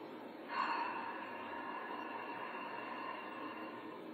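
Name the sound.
ocean breath yoga breathing, exhaling through the mouth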